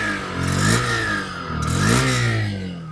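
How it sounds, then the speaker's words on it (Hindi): A Honda Shine 100 DX motorcycle is revved twice at close range, its exhaust note rising and falling in two smooth swells over a steady idling putter. "मैं आपको इसका एग्जॉस्ट साउंड करवाता हूँ।"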